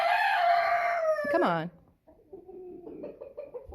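A rooster crows loudly and close, a long strained call that breaks off, followed by softer chicken clucks and murmurs around a backyard pen, with a person briefly speaking.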